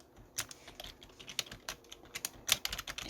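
Rapid, uneven keystrokes tap on a computer keyboard as chart titles and values are typed into a Hangul word processor, crisp and close with short pauses between bursts.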